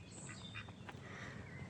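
Ducks quacking at a lakeside resort, Lopota Lake, in a few short scattered calls heard faintly over a steady outdoor background hum.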